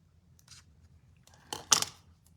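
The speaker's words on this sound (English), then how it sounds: "Turn it over to snip this little bit off the back." Paper is snipped with scissors during stamped card making, giving two or three crisp close cuts near the end of an otherwise quiet moment.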